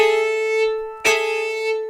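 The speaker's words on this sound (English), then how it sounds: "I'll play the note below an open string at the same time as an open string" Two sustained fiddle double stops, a note just below an open string bowed together with the open string, giving a droning, bagpipe-like sound. A short sharp bow attack restarts the chord midway, and it rings on clearly with no talking.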